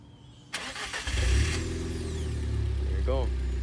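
A car engine is remote-started through an EC003-NS push-start alarm system: after a click it cranks briefly, catches and settles into a steady low idle, close and loud, with someone talking over it.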